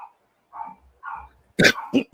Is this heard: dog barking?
yes